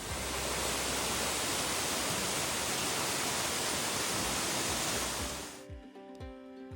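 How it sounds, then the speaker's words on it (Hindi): Waterfall near Marysville, Victoria in autumn, a dense, loud, steady roar of falling water that fades out near the end, leaving quieter background. "सिर्फ गिरते पानी की आवाज, ठंडी हवा और सामने कुदरत का एक लाजवाब करिश्मा।"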